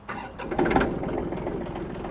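A Yanmar AF-26 mini tractor's small engine cranks and catches, settling into a steady running rumble, close by.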